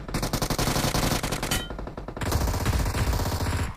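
UMP submachine gun in BGMI firing rapid full-auto bursts, loud and close, with a brief gap before a second sustained stream of shots.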